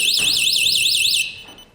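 A loud electronic panic alarm from a Crow home alarm panel wails in rapid rising-falling sweeps, then cuts off abruptly, leaving a fading tail.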